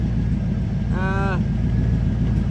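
A low, steady engine rumble from an LS-swapped Chevrolet S10 idling slightly low close by, constant throughout, with a brief whistle-like tone rising briefly over it.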